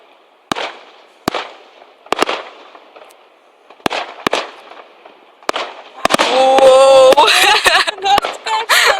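Fireworks explode over a small town in Bulgaria: several sharp, loud separate bangs spaced irregularly, then a dense crackling burst of overlapping pops and whistling trails near the end.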